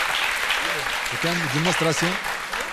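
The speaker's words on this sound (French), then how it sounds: "On les applaudit déjà je dis bravo" Audience clapping at a live Ivorian television midday show fills the clip as a steady, dense patter of hands, with a voice talking and singing over it close by.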